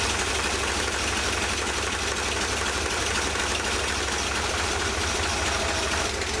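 A car engine idles steadily and loudly at close range while the carburetor mixture screw is being adjusted, a continuous rumbling drone with no talking.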